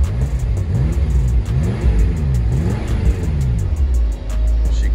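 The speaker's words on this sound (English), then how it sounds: "Let me see if I can get y'all some revs." A 2018 BMW M6 Convertible's engine is revved repeatedly, close and loud, its pitch rising and falling in several quick surges over a deep idle rumble, with no talking.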